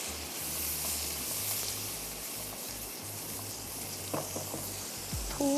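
Green chillies sizzle in a frying pan while making Kolhapuri egg gravy, a steady hissing fry throughout, a couple of utensil clinks near the end.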